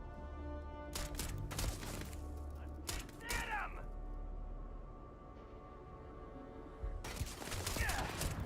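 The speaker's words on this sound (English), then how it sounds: "Assuming you guys are shooting at me?" Gunfire in the video game Starfield, several sharp bursts of shots spaced across the clip over a steady electronic hum with tonal game sounds, fairly quiet overall.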